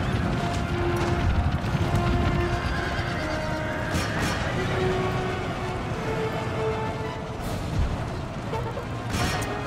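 Cavalry horses charge in Empire Total War, with horse whinnies and hoofbeats rising over a dense, continuous battle roar that stays loud throughout.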